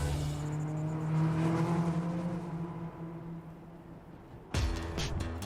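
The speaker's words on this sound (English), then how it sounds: "It's just a car." A car drives with a steady engine drone that rises and falls as it accelerates, then a sharp burst of louder, broadband engine noise near the end.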